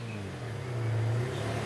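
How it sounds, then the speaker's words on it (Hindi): A car engine revs up in a low steady drone that swells louder midway and then holds, heard alone with no voices. "गाड़ी की आवाज।"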